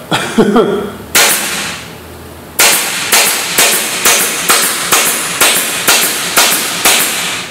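A pneumatic upholstery stapler fires staples into wood: two sharp loud snaps, then a quick even series of about eight crisp shots close by, with brief faint sound before the first.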